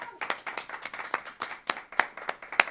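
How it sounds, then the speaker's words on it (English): A small audience claps after a poetry reading, sharp individual hand claps in an uneven rhythm, fairly close and distinct, with no talking over them. "Another round of applause."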